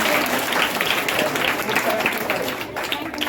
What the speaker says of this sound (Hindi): सभा के लिए एक बार और जोरदार तालियां